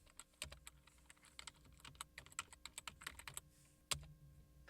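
Computer keyboard typing while renaming a folder, a quick run of close, crisp key clicks in an irregular burst, ending with a sharper keystroke, alone in a quiet room.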